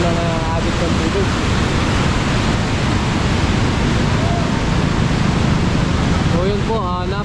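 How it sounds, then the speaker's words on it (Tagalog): A loud, constant roar of strong rushing water at a dam fills the scene, broad and unbroken, with a few faint voices barely audible beneath it. "So napakalakas po lang ang agos ng tubig."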